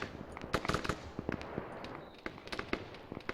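Gunfire from a large video game battle between many AI soldiers using Vcom AI, an uneven barrage of sharp cracks and bursts, some close and some distant, overlapping irregularly.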